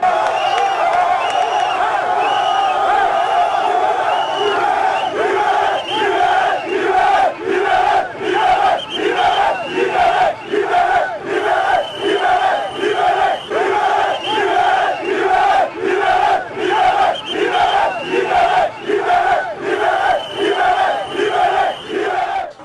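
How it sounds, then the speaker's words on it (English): Street protesters chanting freedom chants in rhythmic group shouts, punctuated by steady claps and whistles. The loud, repeating crowd cadence pulses roughly every second for the whole stretch, close and continuous. "From claps and blowing of whistles to freedom chants."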